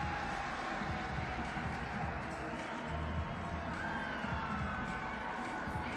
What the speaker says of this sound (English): the Mexican bench erupted. They loved it.